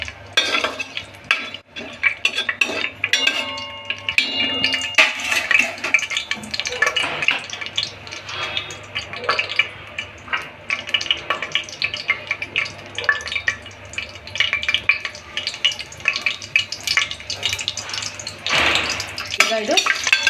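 Spices added to a hot pan and stirred with a metal utensil while cooking pudina (mint) rice, heard as steady clinking, scraping and sizzling close by, with occasional talk over it.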